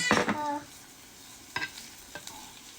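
Garlic and ginger frying in a pan with a short sizzle and stirring scrape at the start, then brief quieter stirring clinks, close and without talk.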